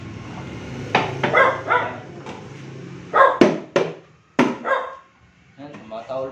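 A pet dog barks in a home during speaker cable maintenance, several sharp barks in irregular bursts up close and loud, some overlapping with talk.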